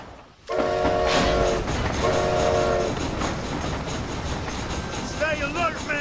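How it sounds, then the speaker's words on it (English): Train from the game Red Dead Redemption: Undead Nightmare rumbles along loudly with rhythmic rail clatter, while its horn blasts in two long pulses and someone shouts over it near the end. "This train headed for Mexico."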